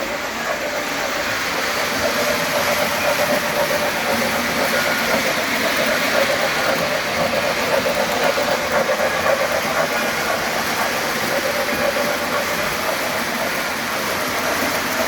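Model trains pulling boxcars run steadily around the track, making a continuous close rumble and whir with a constant level and no talking.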